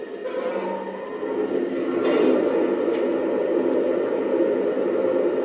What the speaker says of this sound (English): the water fill up sound effect.